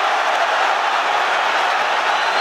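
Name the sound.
boxing crowd roaring as Campbell lands a body shot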